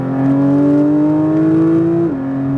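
A Porsche 992 GT3 engine pulls hard on throttle around a race track, its loud, close howl climbing steadily in pitch before a quick drop at an upshift, with no voices over it.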